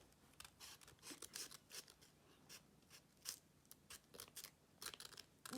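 Scissors cutting origami paper to shape an alien's legs, a quiet series of close, rapid snipping and crunchy paper cuts in an uneven rhythm.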